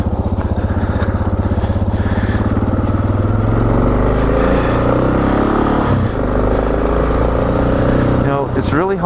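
A Suzuki DR dual sport motorcycle is ridden on a winter trail. The engine drones loud and steady the whole way through, with rising and falling revs and a sharp rev-up near the end. Heavy wind buffets the microphone.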